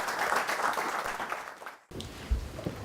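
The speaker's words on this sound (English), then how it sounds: "Can we give a round of applause" Audience applause at a startup AMA session, steady clapping filling the room, briefly dropping out then resuming more sparsely.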